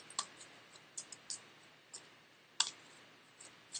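A deck of butterfly cards is shuffled, giving a string of light, crisp clicks and slaps at an irregular pace, close up and fairly quiet.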